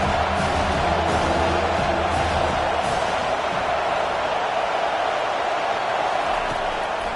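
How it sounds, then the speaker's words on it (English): A home crowd roars steadily in a college football video game matchup between Texas Tech and the Buffs, a broad, loud, sustained wash of cheering as the defense tries to get off the field on third down. "Here comes this home crowd as the defense tries to get off the field on 3rd down"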